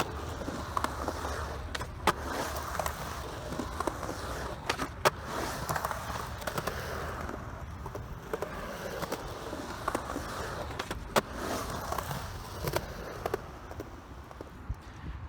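Skateboard riding up a wall during backside air kickturn attempts, with rolling wheel noise and repeated sharp board clacks and tail snaps across the whole stretch, fairly close, with no talking.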